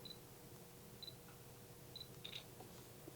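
Shutter button on a Fujifilm XP60 compact camera pressed repeatedly: a handful of faint, short clicks and beeps spaced about a second apart, close up against a quiet room with no talking.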